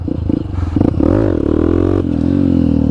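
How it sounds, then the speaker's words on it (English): A motorcycle in the Philippines revs hard for a wheelie attempt: loud, close engine with choppy blips that rise into a sustained, climbing rev, then settle to a steady high drone. "just let me try to demonstrate the wheelie"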